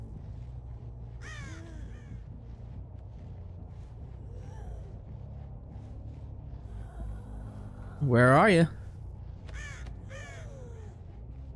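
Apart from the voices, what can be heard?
crows cawing in the video game Dead by Daylight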